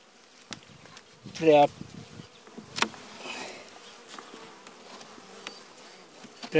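Honey bees buzz around an open hive during a frame inspection, a soft, constant drone with a few louder bursts as single bees fly close, plus faint clicks and handling noises.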